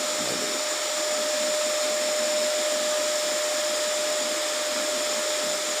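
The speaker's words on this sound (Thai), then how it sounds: "นี่คือการสาธิตการใช้เครื่องดูดฝุ่นนะครับ ของแบรนด์ LG" An LG 400-watt vacuum cleaner runs steadily throughout, a loud, close, continuous whine with a constant tone and no gaps or voices.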